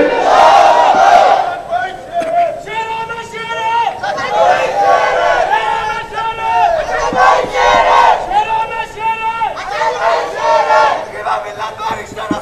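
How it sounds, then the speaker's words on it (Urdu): A large crowd at a political rally in Akbar Bagh, Malakpet, Hyderabad, chants 'Naara-e-Takbeer' in loud, rhythmic unison, voices rising and falling in repeated surges. "آپ نعروں کی گونج میں صدر صاحب کا استقبال کیجئے"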